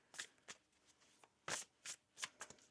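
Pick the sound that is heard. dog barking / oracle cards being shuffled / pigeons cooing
oracle cards being shuffled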